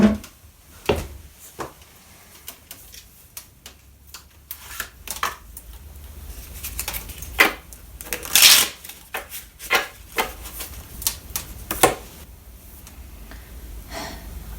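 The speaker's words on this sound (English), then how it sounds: "I shuffle the cards," Playing cards are shuffled in repeated riffling bursts, with soft breaths and rustles between the clicks.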